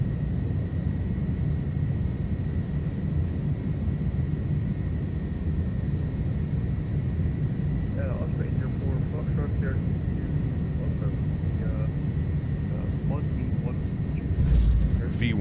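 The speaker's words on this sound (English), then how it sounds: "Airspeed is alive. It's gonna be a long takeoff roll" An iniBuilds A310 jet on its takeoff roll at London Heathrow in Microsoft Flight Simulator gives a steady, loud engine roar and rumble throughout, with faint cockpit tones and callouts in the background.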